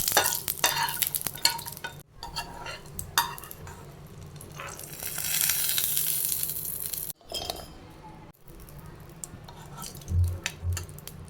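Cashews fry in a little oil in a pan, a close, steady sizzle broken by stirring scrapes and light clinks, with a few brief silent gaps and no talking.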